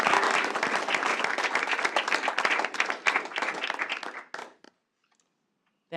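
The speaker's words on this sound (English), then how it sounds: "so if we can give Bennett just a round of applause for this amazing accomplishment" Applause from the audience at a school board meeting honouring an award winner, a loud, dense burst of clapping that thins out and stops abruptly after about four seconds, leaving near silence.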